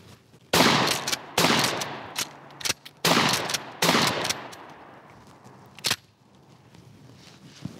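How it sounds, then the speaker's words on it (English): Pump-action shotgun firing on an outdoor range: several loud, sharp blasts spaced about a second apart, each trailed by a brief echo, with the clack of the action being worked between shots. "The shotgun works a hell of a lot better."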